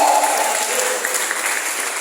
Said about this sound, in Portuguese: levanta a mão e aplaude ao Senhor